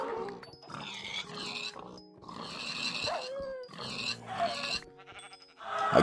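Minecraft sheep bleat in a series of nasal, wavering calls, close and fairly loud, repeating at irregular intervals with short gaps, with no talk over them.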